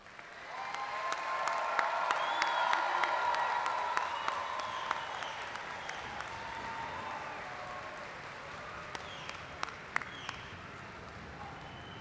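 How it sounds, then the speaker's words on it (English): Graduates and guests at a spring university commencement ceremony give a final sustained round of applause, a dense wash of clapping swelling early and slowly tapering off over twelve seconds, with scattered sharper claps near the end. "let's give our graduates one final round of applause"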